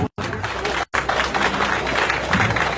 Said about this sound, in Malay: Beri satu tepukan